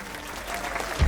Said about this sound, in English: Applause is like music to my ears.